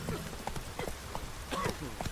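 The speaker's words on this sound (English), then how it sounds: "Whoa there, Roach" Horse hooves gallop in the Witcher 3 video game, a quick rhythmic clip-clop of hoofbeats, fairly faint, with a voice speaking over them.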